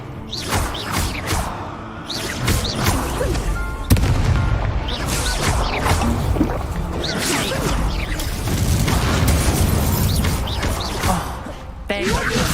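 Incendio fire spell cast in Hogwarts Legacy during combat, a roaring burst of flame with booming impacts and crackling, loud and continuous, under a voice.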